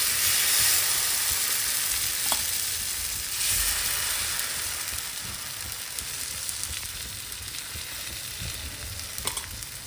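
Tomato omelette batter fries in hot oil in a pan, a steady close sizzle and crackle with a hissy texture that holds throughout and fades slightly toward the end.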